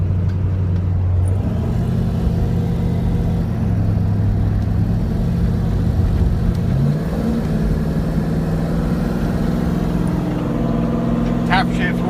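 A Jeep JK with an LS engine cruises on the freeway, its engine a steady low drone shifting pitch as it accelerates and changes gear, heard from inside the cab.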